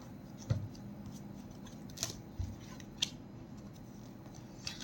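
A few tarot cards are handled and straightened, giving several soft, brief crisp snaps and taps spaced out over quiet room tone with no talking.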